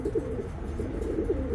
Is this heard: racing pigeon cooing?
yes